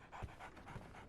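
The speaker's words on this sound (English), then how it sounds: "Tiny dog." A small dog pants in a Sherlock Holmes video game, quick rhythmic breaths repeating steadily through the short moment at moderate loudness, alone with no talking.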